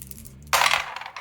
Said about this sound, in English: I'm good at rolling extra dice.